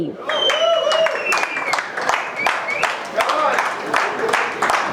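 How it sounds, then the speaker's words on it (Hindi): A crowd at an actors' cricket bash applauds loudly as Ali Goni, captain of the Chennai Marvels, is welcomed. The clapping is dense and sustained, with whistles and voices calling out over it. "अच्छी वाली तालियां बजाइए"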